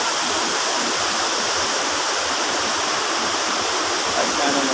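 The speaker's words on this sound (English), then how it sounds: "Maeya Waterfall." Maeya Waterfall in Chiang Mai, Thailand, pours in a loud, steady rushing roar of falling water, close by and continuous with no other sounds breaking through.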